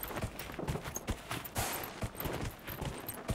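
A horse walks in the video game Dragon Age: Inquisition, its hooves striking in a steady, close clip-clop rhythm of sharp thuds roughly every half second, with no talking.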